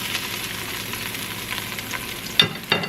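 A beef pot roast sears in a hot pan on a stovetop, giving a steady, fairly close crackling sizzle with brief louder spits near the end and no talk.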